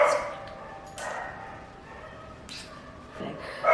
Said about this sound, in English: There's two dogs barking.